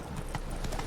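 Horse hooves clip-clopping at a steady gallop rhythm in The Witcher 3 game, a continuous close pounding with game ambience beneath.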